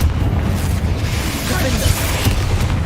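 Fiery Confringo spell blasts in Hogwarts Legacy, a dense rumbling boom with crackling bursts sustained for the whole stretch, loud and close, with a second impact near the end over steady low game ambience.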